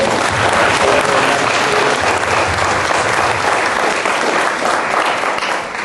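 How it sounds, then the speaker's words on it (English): A conference audience gives steady, dense applause that holds at full strength from start to finish without a pause. "let's give a round of applause to them"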